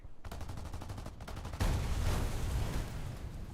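Aircraft machine-gun fire in the War Thunder flight game: dense rapid bursts that grow louder and thicker partway through, a continuous rattling fusillade over engine drone.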